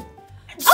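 A single short sneeze bursts out at the end after a brief quiet lead-in, close and fairly loud.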